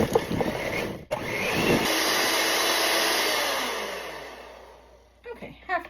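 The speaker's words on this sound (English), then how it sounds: "I'm using a hand mixer because this is not big enough for my big stand mixer" An electric hand mixer whirs steadily on low while beating butter in a bowl for a candle cake, a smooth continuous motor hum after brief clatter, ending with clunks as it stops.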